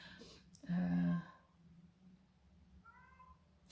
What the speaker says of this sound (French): Je pense que vous entendez mon petit chat